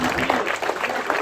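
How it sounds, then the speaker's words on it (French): Crowd applause for a cyclist, the best climber's jersey holder, on the podium at a race finish in Epinoy; dense, steady clapping from a nearby crowd, loud throughout with bursts of cheering. "On l'applaudit une nouvelle fois très très fort"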